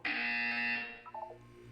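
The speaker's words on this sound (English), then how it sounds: "When you hear the buzzer, look down at the floor." A buzzer from the video game Portal 2, a loud harsh electronic tone that holds for most of a second, then breaks into a few brief stuttering blips as it dies away.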